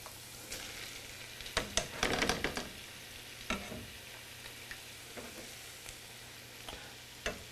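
Food being tipped into a pot sizzles and fries steadily, with clinks and stirring scrapes including a busy burst early on, heard close and moderately quiet with no talking.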